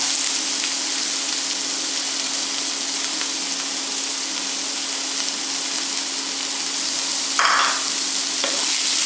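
Chopped onions sautéing in a pan for a Kerala onion thoran, a steady broad sizzle and crackle throughout with a brief louder burst of stirring near the end, no voices.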